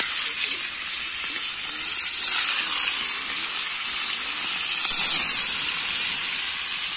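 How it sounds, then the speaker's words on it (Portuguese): Small salted fish fry in hot fat over an outdoor campfire, a dense, steady, close hissing sizzle that holds for several seconds with slight swells and no talking. "Depois da gordura quente, o peixe salgado."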